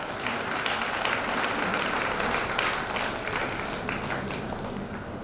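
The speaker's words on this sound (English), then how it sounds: "Please do not stop, your applause should continue." Applause fills a school annual day function at a girls' high school, a broad, steady wash of many hands clapping continuously throughout, moderately loud with no pauses.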